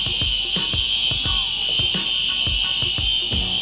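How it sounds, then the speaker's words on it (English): A building fire alarm sounding in New York, a loud, piercing continuous high tone with a rapid pulsing beat running steadily under the whole stretch. "Bro, we got a flight to catch and the fire alarm is going off."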